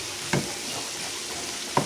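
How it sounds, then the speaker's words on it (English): Pork chops sauté in a frying pan for smothered pork chops with gravy, giving a steady soft sizzle with two brief louder stirring scrapes, close and without talk. "I'm gonna let these saute."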